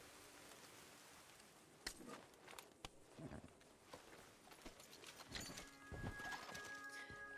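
Hooves clop irregularly on the ground in Red Dead Redemption II, with a faint horse whinny late on, all fairly quiet against a light, rain-like game background.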